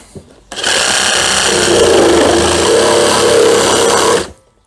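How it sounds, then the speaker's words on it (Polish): An Einhell GE-GS 18/150 cordless pruning saw starts up and runs steadily at fairly low speed, a loud continuous motor whine with a buzzing chain, holding for about four seconds before cutting off. "odpalam piłę, ona ma takie dosyć wolne obroty"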